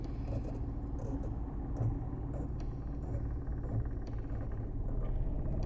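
A learner driver's car idles as the clutch is slowly released, its engine giving a low, even rumble at modest volume throughout, with no voices present.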